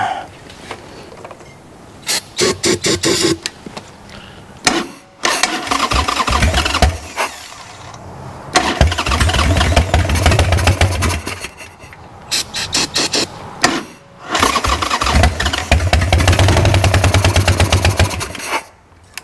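Wrecked Harley-Davidson Sportster motorcycle engine being cranked repeatedly, catching briefly and running in loud bursts with gaps between attempts, close by with no talk.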